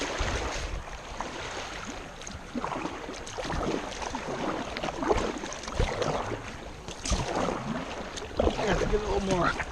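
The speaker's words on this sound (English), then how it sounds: "I have to get a little more aggressive with my paddling, I think." A kayak is paddled on the Eleven Point River with irregular splashes and water swishing close by, mixed with wind and flowing water, and someone speaks at times.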